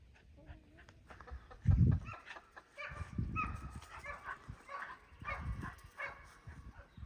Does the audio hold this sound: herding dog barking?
yes